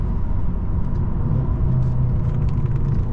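A 2023 Mercedes CLA 250 under way, its engine giving a loud, steady deep drone heard from inside the cabin, mixed with continuous road rumble and a slight rising whir midway.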